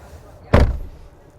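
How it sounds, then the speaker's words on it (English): A frameless car door shown at an electric car expo closes with a single solid, damped thud, loud and close, followed by a short fade into quiet hall ambience. "A premium sound when closing the door."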